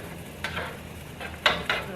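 Sauce made with oyster sauce being stirred in a frying pan, a few soft scraping and clinking strokes of a utensil against the pan at irregular intervals over a quiet kitchen background.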